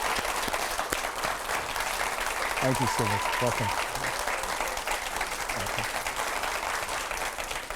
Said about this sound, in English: Keep clapping, keep clapping.